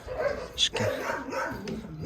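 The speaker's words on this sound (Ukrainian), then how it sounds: "Ну такі у нас собаки." Dogs at an animal shelter give a few short barks and yips, close by, mixed with indoor background noise and no clear talk.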